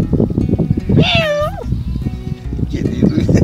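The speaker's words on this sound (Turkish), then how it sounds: "Kediyi duydum." A single cat meow, rising then falling with a drawn-out whine, close by over a background of chatter and household noise.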